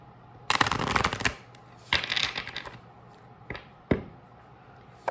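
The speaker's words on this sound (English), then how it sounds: "Shuffle one more time." Tarot cards being shuffled in bursts: a long riffling rush, a second shorter run, then a few brisk taps and slaps of the deck, close and fairly quiet with no talking.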